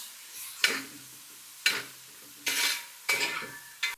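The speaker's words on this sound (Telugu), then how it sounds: "ఇప్పుడు దీంట్లో కీమా, కీమా వేసి చక్కగా వేయించండి కీమాని." Mutton keema frying in a large pan sizzles in five short, sharp bursts as it is stirred, each spike of crackle dying back to a faint hiss between strokes.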